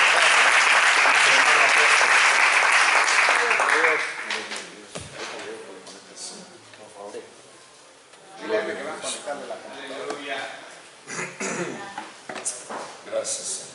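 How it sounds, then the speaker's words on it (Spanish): A church congregation bursts into loud sustained applause for the Lord, lasting about four seconds before fading into scattered claps, murmurs and a preacher's voice continuing over the room. "Denle un aplauso al Señor."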